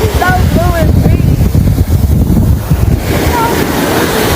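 Seashore wind buffets the microphone over a steady wash of ocean surf, loud and continuous throughout, while several people talk and laugh nearby.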